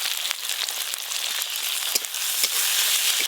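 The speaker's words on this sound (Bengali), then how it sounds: "এদিকে আদা রসুন পেঁয়াজ ভাজা হতে হতে" Chopped onion with ginger and garlic paste fries in oil, giving a close, steady sizzle broken by a few sharp spits and light spoon scrapes, without any talking.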